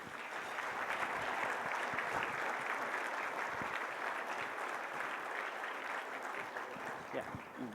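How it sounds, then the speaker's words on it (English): Warm, sustained applause from guests at a charity gala dinner, a continuous spread of clapping hands heard from moderate distance, with faint voices mixed underneath. "Round of applause, please."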